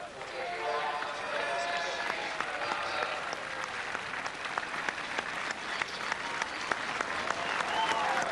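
An enormous crowd at the 1986 Cheltenham Festival horse race applauds a returning champion hurdler, with sustained dense clapping and cheering throughout and a commentator's voice running underneath.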